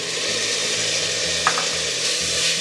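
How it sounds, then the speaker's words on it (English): Finely diced tomato sizzles and sautés in a pot with fried onions and garlic, a steady close frying hiss with faint stirring and a brief light scrape midway. "So now it's time to add in the tomatoes. And I'm adding 1 finely diced tomato."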